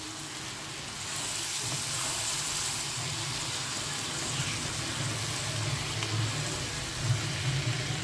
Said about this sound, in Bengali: এখন আমি টমেটোটা দিয়ে কিছুক্ষণের জন্য নাড়াবো